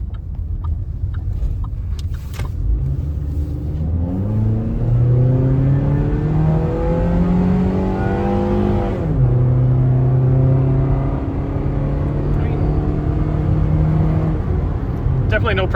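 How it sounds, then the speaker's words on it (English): GM Atlas four-cylinder engine with an HP Tuners tune revving up through the gears, its rising harmonic note loud and close, dropping at a shift and then climbing again steadily under a continuous drone. "the note in the engine was quite different"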